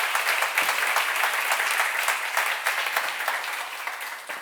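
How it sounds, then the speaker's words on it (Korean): A church congregation at a Korean church seminar bursts into dense, sustained applause that stays loud and even throughout, then eases slightly toward the end, with no voices over it. "박수 한번 쳐요."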